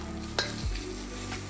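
Dry chili peppers drop into a hot wok with fragrant peppercorns and fry, a sharp sizzle on contact followed by a steady hiss and a faint clank of stirring, close and without voices.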